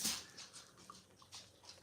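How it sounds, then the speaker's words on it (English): A dog whimpers softly in a home garden setting, a few faint, brief high whines scattered across the moment against quiet background rustle, with no talking. "Let's get the dogs outside,"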